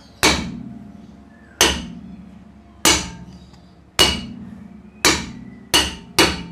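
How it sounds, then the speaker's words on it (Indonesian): Seven sharp metallic hammer blows on a car brake drum, each ringing briefly before the next, spaced about a second apart and speeding up toward the end. "Caranya digetar menggunakan atau dipukul dengan palu bagian sininya atau bagian sininya ya"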